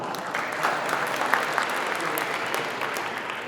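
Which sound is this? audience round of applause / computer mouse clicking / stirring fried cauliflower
audience round of applause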